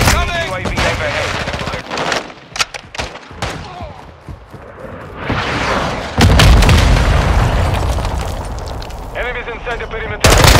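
A grenade blows up in Call of Duty: Modern Warfare, a loud, heavy boom in the middle of a firefight, with machine-gun fire and in-game voices calling out around it.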